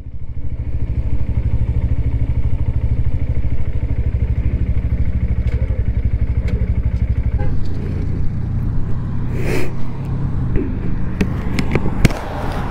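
A Honda CB125 Hornet motorcycle, just back from its first service, idles nearby with a rapid, even engine pulse that shifts and roughens partway through, with a few light clatters near the end.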